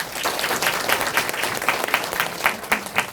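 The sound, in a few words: audience applause after a lecture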